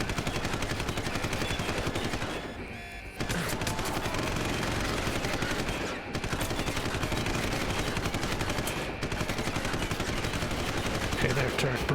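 Automated turret gunfire in Deus Ex: Human Revolution, loud and sustained rapid bursts filling the whole stretch with only two brief pauses, set against a steady game soundscape.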